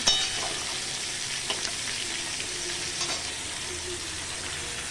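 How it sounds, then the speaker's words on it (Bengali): Onions fry lightly in a pan with a steady, close sizzle, alongside occasional soft stirring scrapes, and no one speaks. "এদিক ওদিক করে খুব বেশি ভাজতে হবে না, হালকা ভাজতেই হবে"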